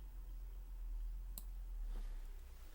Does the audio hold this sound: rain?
no